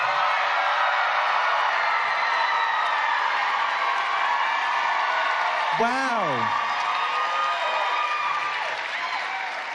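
A live comedy audience cheers, whoops and applauds loudly throughout, a dense sustained roar with one voice rising above it midway, fading slightly near the end.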